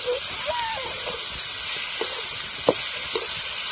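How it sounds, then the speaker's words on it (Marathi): Onion sautéing in oil in a kadhai, heard as a steady, broad hiss and sizzle throughout, with faint scrapes of stirring and a soft voice murmuring in the background. "तर आता कांदा परतून राहिला मस्तपैकी"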